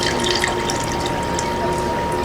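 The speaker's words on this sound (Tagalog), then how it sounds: "Next step po natin, ilalagay po tayo ng tubig." Tap water pours steadily into a cooking pot in a home kitchen, a constant loud splashing rush heard up close with no speech.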